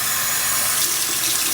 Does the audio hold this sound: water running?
yes